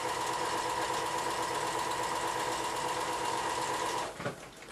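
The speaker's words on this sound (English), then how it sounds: "So first sew everything into sets of 2." A sewing machine runs steadily for about four seconds while stitching fabric strips into pairs for a barrel bag, a constant mechanical whir that stops near the end.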